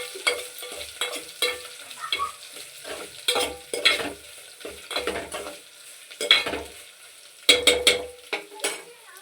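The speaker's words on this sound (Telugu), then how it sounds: "మిరపకాయలు బాగా వేగిపోయాయండి." Dried red chillies fry in a pan for a Telugu sorrel leaf (chukka kura) pulusu, with repeated bursts of stirring and scraping over a steady crackle, close and fairly loud, with no talk.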